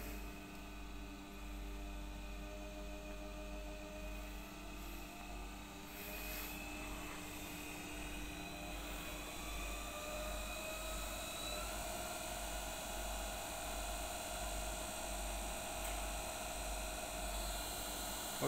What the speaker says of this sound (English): right now it's 1130 RPM, and you can listen the sound of the machine or the motor